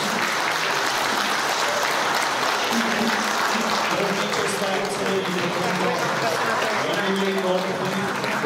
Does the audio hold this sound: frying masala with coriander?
no